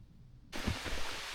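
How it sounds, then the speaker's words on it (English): Heavy rain abruptly sets in on a wooded ridge backpacking loop during a thunderstorm, a dense, steady broadband hiss of downpour that starts suddenly and holds at a close, loud level. "We can hear it starting to downpour now."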